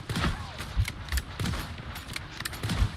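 Rapid, layered bursts of gunfire from a first-person shooter video game crackle continuously at moderate loudness, overlapping shots and impacts blending into a busy, dense mix with no clear gaps.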